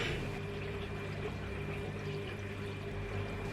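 Water poured steadily into a mortar mix, a continuous splashing pour at moderate volume that runs unbroken with no talk.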